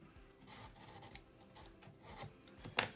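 Faint rasping strokes of scissors cutting paper pages for a handmade mini book album, a few soft rubbing cuts with one sharper snip near the end, close and quiet with no talking.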